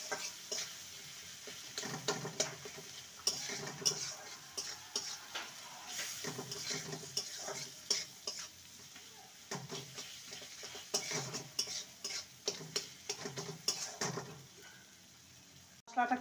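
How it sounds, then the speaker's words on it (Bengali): Cumin powder and Kashmiri chilli powder being stirred and fried in a pan for an egg and onion curry, with repeated scraping strokes of a spatula over a soft sizzle, fairly close and moderately quiet. "ভালো করে সমস্ত কিছু কষিয়ে নেব।"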